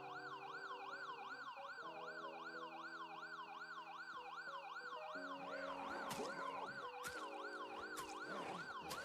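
Emergency siren wailing in a video game, rising and falling in a regular cycle alongside a steady held tone, joined later by sharp clicks and clatter; no voices.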